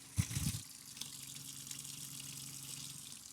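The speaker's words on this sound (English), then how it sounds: "Now I turn the hot side on." Hot water running from an RV faucet during bleach sanitizing of the fresh water lines, a faint steady stream after a short gurgling splash at the start.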